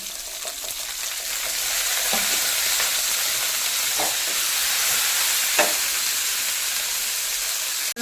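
Onion and tomato sautéing in a pan, a loud continuous sizzle with occasional stirring scrapes and knocks, ending in a sharp clatter.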